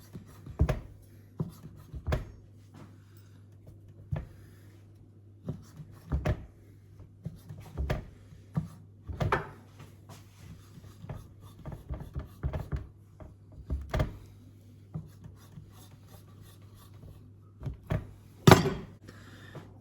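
A knife or cutter works through filled pastry dough to make mini cheesy French pasties, giving sparse, sharp taps and presses on a board at irregular intervals, close and fairly quiet, with no talking.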